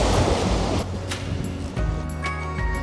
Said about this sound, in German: Der See hier ist ja riesig. Soweit das Auge reicht, Wasser.